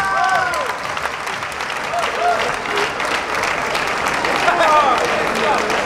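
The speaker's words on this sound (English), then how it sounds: "Give these ladies a round of applause" Loud, dense applause and cheering for two performers at a latex-themed ball, continuous and crowd-filled, with shouting voices and whoops rising out of the clapping.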